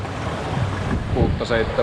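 A solo sailboat runs under spinnaker in the Baltic Sea in a 7 to 8 metre per second wind, with constant loud wind buffeting the microphone and surging waves rushing past the hull.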